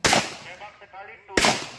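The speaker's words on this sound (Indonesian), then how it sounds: "Tembak sekali itu." Two sharp, loud gunshots from a short-barrel firearm at a shooting range, one at the start and another just after a second, with faint ringing decay between them.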